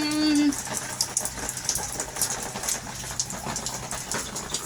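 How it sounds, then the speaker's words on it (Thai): Heavy rain pours down steadily in a dense, hissing wash during a morning at work, with a brief tonal hum at the start before the downpour continues alone. "ฝนตกพังพัง"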